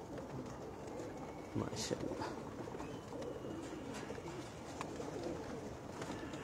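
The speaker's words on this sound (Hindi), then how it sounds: "ये देखो दोस्तों रामपुरी कबूतर" Soft cooing of Rampuri pigeons and rustling wings on a Karachi rooftop blend into a busy background, with a man's brief remark over the birds.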